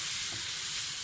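Chicken mince frying in a hot pan gives a steady, even sizzling hiss throughout one brief second, with no voices.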